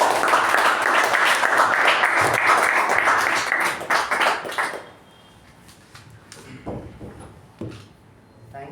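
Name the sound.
audience applause welcoming a speaker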